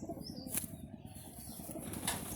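A racing pigeon beats its wings in a restless flurry, a close, continuous rhythmic flapping with a couple of sharper wing slaps.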